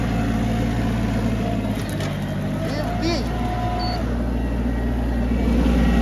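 An Iseki TA 235 Japanese tractor runs its engine at working revs with a rotary tiller, a steady loud hum and drone throughout while someone talks over it.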